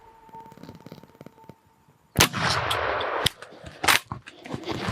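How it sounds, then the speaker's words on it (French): A rifle fired during a turkey hunt gives one loud, sharp, close crack midway through, followed by a rough, lingering tail and a few quieter bangs, after a quiet opening with a faint hum. "J'ai lâché ma balle."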